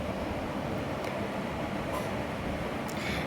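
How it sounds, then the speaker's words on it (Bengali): Train pulling into a station in Mumbai, a steady broad rumble of rolling wagons with faint metallic clanks, continuous and fairly close with no talk over it. "এই দেখো ট্রেন ঢুকে গিয়েছে"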